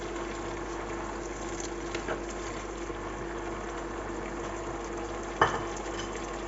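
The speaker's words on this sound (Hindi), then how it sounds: "हल्का सा स्टर फ्राई करेंगे हम।" Frozen peas stir-fried in a pan with ginger and whole spices give a steady, soft sizzle, with a single brief clank of a utensil near the end.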